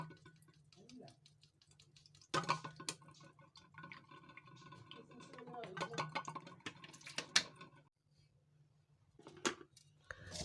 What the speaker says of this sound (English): This is also another tedious part that you have to take your time to strain it